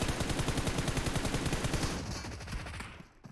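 A Tommy Gun fires rapid full-auto bursts in the mobile shooter PUBG Mobile, a dense rattling stream of loud close shots lasting about two seconds before trailing off into scattered echoes.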